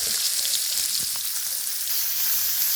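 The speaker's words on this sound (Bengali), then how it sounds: "এখন এই যে রান্না শুরু করে দিয়েছে, মাছ ভাজি করছে" Rohu fish sizzling in hot oil in a pan, a steady bright hiss filling the space close up, with faint stirring sounds and no talk.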